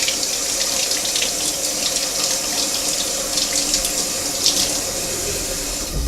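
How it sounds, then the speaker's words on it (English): Cold tap water runs steadily over a boiled egg in a sink, a continuous close hiss and splatter with no voices. "we're going to cool that off with some cold water"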